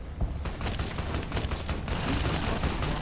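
Heavy gunfire in Fallout: New Vegas roars in rapid, overlapping bursts with booming impacts, loud and close, building to a sustained barrage without speech.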